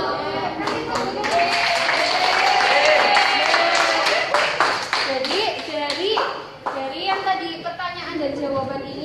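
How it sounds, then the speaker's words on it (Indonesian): Students in a classroom break into loud, sustained applause, a thick wash of clapping that tapers unevenly toward the end, with children's voices mixed in. "Kasih tepuk tangan."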